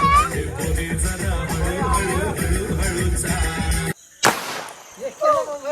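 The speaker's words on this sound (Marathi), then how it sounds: "इथे बघा फटाके वाजवते सगळे" A single sharp firecracker burst cracks out after a stretch of loud music and voices, where small children gather outdoors with the family.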